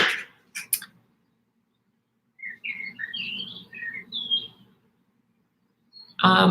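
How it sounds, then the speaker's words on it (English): Recorded birdsong playing indoors in a studio: a short burst of bright chirps and twittering calls, moderately loud, between brief sounds and quiet gaps, with no talk. "they really like the bird sounds that I have in the studio"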